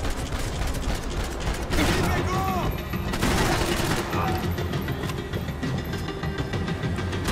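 Gunfire in the shooter game Max Payne 3: a dense volley of rapid shots and bursts over steady action noise, loud and close, with someone speaking briefly.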